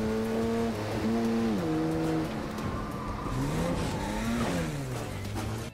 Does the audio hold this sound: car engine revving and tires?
yes